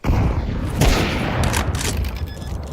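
AK rifle gunfire in the video game Counter-Strike on the Anubis map: a loud, rapid burst of shots with booming echoes that continues over the whole moment.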